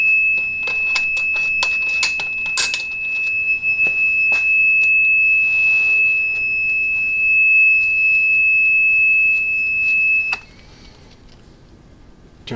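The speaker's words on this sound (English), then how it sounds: "Sorry for the alarm, guys." An electronic alarm on a Dillon XL reloading press sounds a loud, steady high beep tone with mechanical clicks and clatter around it, stopping abruptly near the end.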